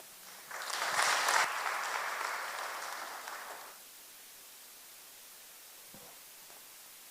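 A congregation applauding at a Kikuyu church service: a crowd's clapping swells in for about three seconds, then fades, leaving a quiet room with faint background hiss.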